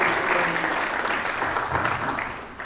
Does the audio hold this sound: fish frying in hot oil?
no